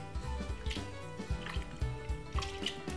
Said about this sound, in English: make sure you drain your salad with the water off of it very carefully